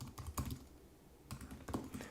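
Quick, close clicks of typing on a computer keyboard come in two short bursts separated by a brief pause, crisp and fairly quiet with no talking.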